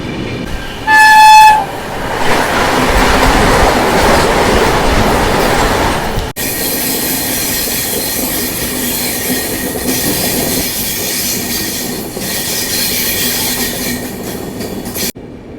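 A 13116 Jalpaiguri Road–Sealdah Humsafar Express overtakes the New Jalpaiguri–Rajendra Nagar Terminal Capital Express in Katihar district. A close, loud, steady rumble and wheel clatter fill the whole stretch, with a brief horn-like tone near the start.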